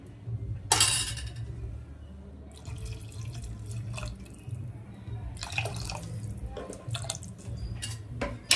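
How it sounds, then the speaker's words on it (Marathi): Water poured from a paste-grinding jar into a pressure cooker pot of khichdi rice, a brief splashy pour and drips over a steady low kitchen hum, with a few faint clinks of utensils. "मी पेस्ट वाटली होती त्यातलं पाणी थोडंसं टाकलं यामध्ये"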